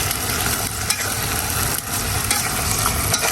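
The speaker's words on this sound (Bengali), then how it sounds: "মাছগুলো দিয়ে একটু হালকা কষিয়েবো, নেড়ে তবে ঢাকনা ঢেকে দিই" Fish pieces are stirred and sautéed in a spicy gravy, a dense, even frying hiss with soft scraping stir sounds and a few brief knocks against the pan.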